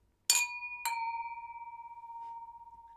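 Glasses clink twice in a toast at a Wienerlied gathering in a Viennese Pawlatschen, two bright close chimes about half a second apart, the second ringing on and slowly fading.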